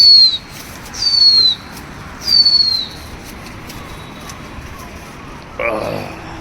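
A pigeon takes off and flies, with a few short bursts of wing flapping close by, separated by brief pauses, followed by a sharper burst near the end.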